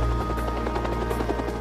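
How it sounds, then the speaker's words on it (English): A Bell turbine-powered utility helicopter of the XH-40 type in flight, its steady loud turbine whine overlaid with fast rhythmic rotor thumps, close and continuous. "Bell's engineers developed a turbine-powered utility helicopter,"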